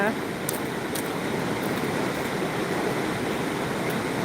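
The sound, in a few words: waterfall on a hike in Switzerland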